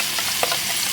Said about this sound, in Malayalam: അണ്ടിപ്പരിപ്പ് റോസ്റ്റായി വന്നിട്ടുണ്ട്